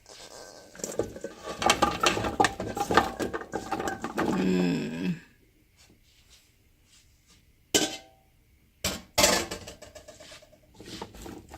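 Chopped celery and carrots are tossed together in a mixing bowl, giving a few seconds of close, busy rustling and clattering, then quiet broken by a few sharp knocks.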